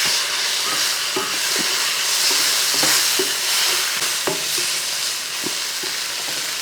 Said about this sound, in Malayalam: തക്കാളിയോട് ചേർത്ത ശേഷം ഒന്ന് ഇളക്കി കൊടുക്കുക